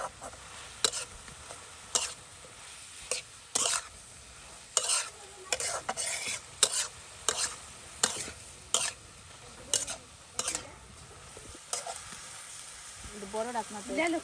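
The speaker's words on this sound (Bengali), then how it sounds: "দেখুন কত সুন্দর করে কিন্তু শাপলা ডাঁটার ভাজি করা হচ্ছে" Water lily stalks stir-fried in a pan, with repeated sharp scraping strokes of a spatula over a soft background sizzle, evenly spaced through the clip.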